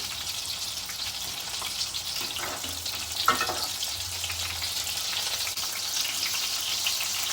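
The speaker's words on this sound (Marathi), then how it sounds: "अशा प्रकारे आपली कोलंबी क्रिस्पी होते बघा साधारण असं ब्राऊन कलर येतोपर्यंत फ्राय करून घ्यायचे" Prawns frying in oil until crisp and brown, a dense, steady hiss of sizzling that runs throughout with one brief stir or scrape partway through, close and even.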